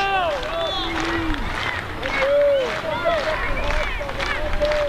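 A baseball crowd at a Bend Elks game murmurs and cheers in the stands, a continuous babble of voices with scattered shouts rising and falling around the ballpark.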